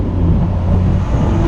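A 1994 Dodge Viper's engine drones steadily from inside the cabin while driving in the rain, a loud, continuous low rumble with no pauses or voices.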